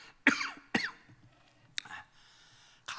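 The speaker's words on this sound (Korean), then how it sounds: "가끔 이렇게 기침해주면은" A man coughs several times in sharp, close bursts during a church revival sermon, with quiet pauses between the coughs.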